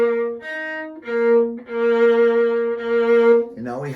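A solo viola plays a sustained, bowed phrase with short gaps of space after the up bows, so the held notes come in separate swells and the last one trails off into a sliding pitch. No voices.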